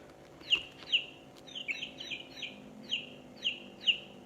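Electronic chick peeping from a children's touch-and-listen sound book: about eight short, high, thin peeps spaced in an even, slightly irregular rhythm, close and clear over a faint steady hum.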